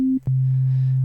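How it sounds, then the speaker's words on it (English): A plain sine wave from the Native Instruments Massive synthesizer sounds as a pure, steady low hum. A brief higher tone at the start drops to a sustained sub-bass note that holds loud and clean, then cuts off abruptly. "sine wave by itself, kind of boring. No harmonics, it's just a sub."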